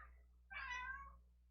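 A cat gives a single short meow close to the microphone, clear and distinct over a faint low background hum.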